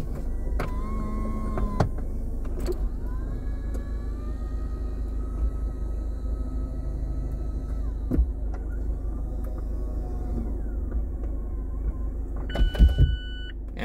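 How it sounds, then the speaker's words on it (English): A 2023 Mazda MX-5 GT's convertible roof retracts: a steady electric motor whirs over a low idling rumble for several seconds, with small mechanical clunks at the start and a few sharp clicks near the end. "now we're going to put the top down and see just how much noise this actually creates"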